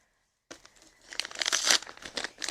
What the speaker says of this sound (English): I'll just go ahead and unwrap her and see what we have.